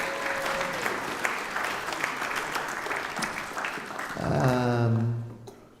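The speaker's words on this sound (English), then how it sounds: "you could definitely give them some claps" A synagogue audience at a Chanukah Shabbat service claps for the choir in a dense, steady round of applause that fades as a voice begins to speak.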